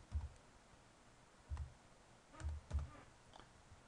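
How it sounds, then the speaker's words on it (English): Soft keystrokes on a computer keyboard as a web address is entered, a few quiet clustered taps with short pauses between them in a quiet room. "we type the VeraPoint access URL into the browser as follows"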